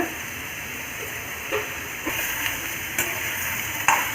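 Turkey berries and tomatoes sauté in a pan with a steady, soft hiss. Light stirring clicks and small pops come through now and then, and a sharper clatter sounds near the end.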